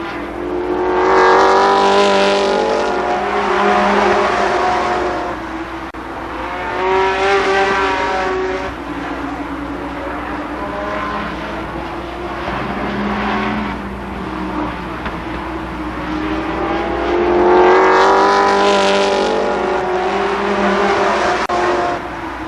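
ARCA Pro 4 stock cars race at Columbus Motor Speedway in 1992, with loud engines rising and falling in pitch as the pack roars past in repeated waves, one car after another.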